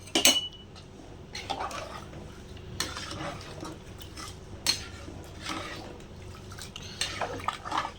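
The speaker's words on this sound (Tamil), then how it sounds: "இப்போ இது வந்து நல்லா போட்டதுக்கப்புறம் கிளறி விட்டுக்கலாம்." Rice and lentils are stirred in a pressure cooker pot with a metal ladle, giving intermittent scraping and clinking strokes over a steady low hiss of kitchen background noise, close and moderate, without talk.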